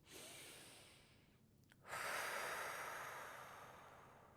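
A single slow breath in a prenatal yoga class, a soft airy inhale rising after a brief pause, then a long gentle exhale that fades, close and quiet with no talking.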